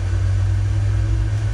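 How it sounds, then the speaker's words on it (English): Aircraft engines igniting and spooling up during a flight from Houston to Dallas, heard as a steady, loud low rumble with a faint whine above it, unbroken from start to finish. "And if you listen, we should hear the engines."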